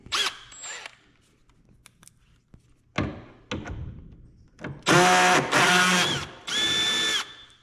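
A power drill with a 10mm socket whirs in several short loud bursts while backing out bumper cover screws on a 2017 Chrysler Pacifica, with faint clicks and handling noises earlier.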